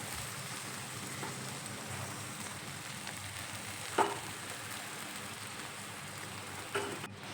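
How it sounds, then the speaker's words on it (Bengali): Beaten egg omelette frying in a wok that is shaken to set it evenly, giving a steady, moderately quiet sizzle with a couple of brief knocks from the pan and no talking. "এই ডিমের অমলেটটা চারিদিক দিয়ে যাতে সমানভাবে পুরু হয় সেই জন্য এই কড়াইটা একটু নাড়িয়ে চাড়িয়ে অমলেটটা সেট করে নেব"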